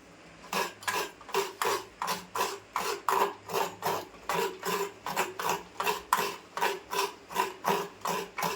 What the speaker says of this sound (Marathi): मी आता ना खोबरं किसून घेते